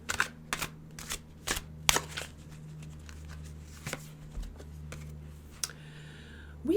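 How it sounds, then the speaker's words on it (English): Tarot cards shuffled and drawn by hand, a string of sharp crisp snaps and riffles spaced irregularly over a low steady hum, close and fairly quiet, ending in a brief brushing flutter. "Let's pull some tarot."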